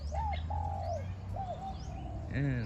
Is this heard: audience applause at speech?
no